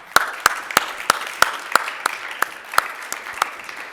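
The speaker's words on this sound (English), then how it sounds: "let's give Brenda a big applause" Applause from a conference audience closing out a talk on DeFi oracles: about eleven evenly spaced sharp claps, steady and fairly close, like a few people clapping in rhythm rather than a full crowd.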